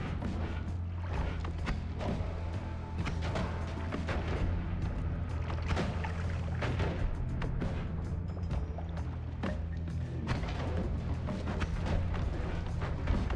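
Explosions in a video game come as a dense run of booms and crashes, one after another over a constant low rumble, loud and continuous throughout.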